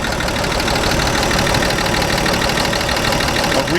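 A 1940s Chevy engine with a rebuilt carburetor and new 160-degree thermostat idles steadily and loudly up close, a continuous rough rumble with a faint knocking texture throughout.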